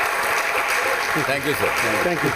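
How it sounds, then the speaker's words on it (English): Audience applause hums steadily in the background of a live talk show while someone speaks briefly over it, the clapping a continuous even wash under his voice. "big round of applause."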